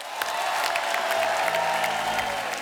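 A studio audience claps loudly and steadily to welcome a singer onto a television show, a dense wash of applause with some cheering, while a voice talks faintly underneath.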